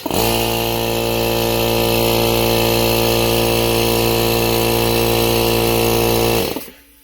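An electric motor with its cooling fan missing runs steadily at a loud, constant pitch with a strong harmonic whine for about six seconds, then quickly winds down and cuts off.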